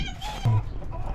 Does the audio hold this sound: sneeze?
no